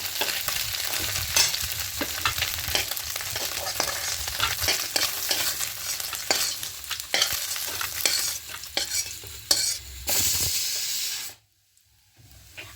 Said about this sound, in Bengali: এইভাবে অল্প অল্প করে দিয়ে মাছগুলো ভেজে নেব